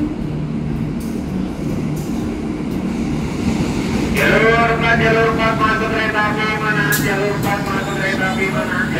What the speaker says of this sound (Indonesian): Kereta api Manahan.